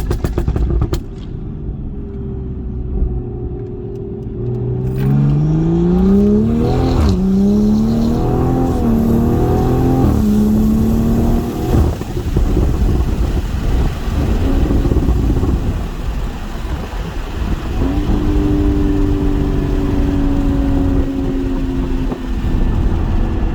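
A Toyota Supra MK5 with a big turbo revs through manual gears, engine pitch rising in sweeps between shifts, loud and close, then cruising and pulling again later, with no talking.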